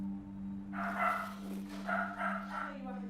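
Puppies yip and bark in short bursts inside quarantine kennels for seized, smuggled dogs, over a steady mechanical hum, with a voice speaking nearby.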